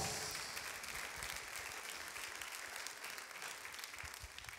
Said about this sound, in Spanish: Fuerte aplauso del Señor. You give him a round of applause.